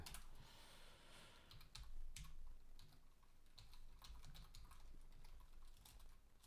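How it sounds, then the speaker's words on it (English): Close fast typing on a computer keyboard while coding a Vulkan triangle program in C, a continuous patter of key clicks with occasional heavier thocks, steady and alone without speech. "I'm so bad at typing."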